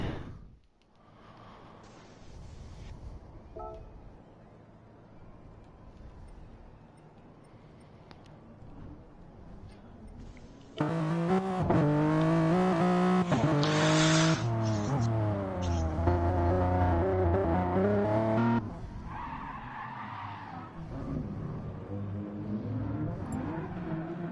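Gran Turismo race cars in a Gr3 league round at the Red Bull Ring pull out of the pits, engines droning faintly at first, then a loud rising and falling rev chorus that eases slightly toward the end.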